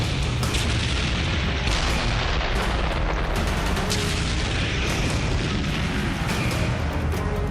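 Tank cannon fire against Sherman tanks in a Battle of the Bulge video game, a loud, continuous barrage of booming shots and blasts that fill the whole stretch without pause.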